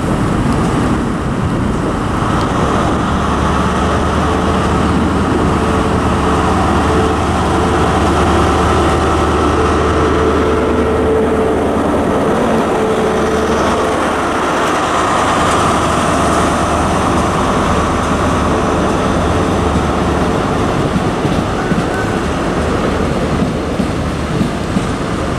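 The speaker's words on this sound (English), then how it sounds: "departing now is what will be the final train in this video, the 1534 Great Western Railway service from Newton Abbot to Penzance" A Great Western Railway passenger service from Newton Abbot to Penzance departs Plymouth, a loud, continuous low engine drone and rumble that swells and shifts as the train pulls away.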